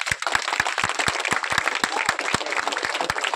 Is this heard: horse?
no